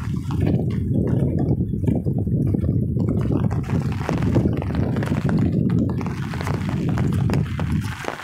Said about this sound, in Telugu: వాటర్ వస్తూనే ఉన్నాయి పైనుంచి.